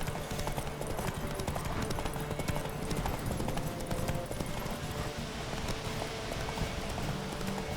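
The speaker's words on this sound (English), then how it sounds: "Kira, you need to guide your horse a little bit better than that." Horse hooves clip-clopping steadily in The Witcher 3, a continuous close rhythm of hoof strikes over a busy game soundscape.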